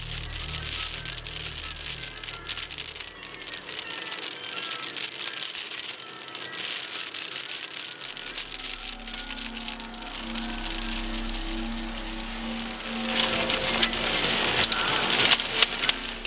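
Hail and heavy precipitation pound a vehicle during a severe storm in Iowa, a dense steady clatter that grows louder and harsher toward the end, with a low rumble underneath.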